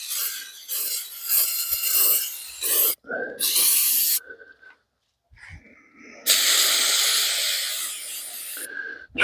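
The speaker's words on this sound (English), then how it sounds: "Just going to blow this off with a little bit of brake clean really quick." Brake cleaner hisses out of an aerosol can onto a Bobcat T650 skid steer's lift arm hose fitting in bursts of loud spray, broken by short pauses and faint handling noises.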